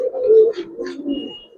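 Giribaz pigeons cooing up close, a low throaty coo followed by softer rolling murmurs over about a second and a half, with faint twitters in the background.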